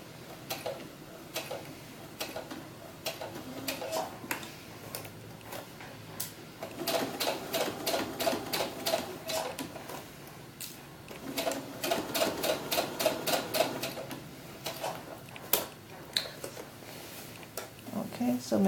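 A sewing machine stitches fabric for a doll's historical ball gown, running in short bursts of rapid ticking with pauses between, while a woman gives instructions throughout.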